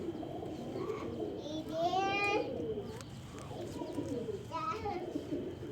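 Pigeons cooing close by in a pigeon loft where young birds are being handled, several soft rolling coos with someone speaking over them.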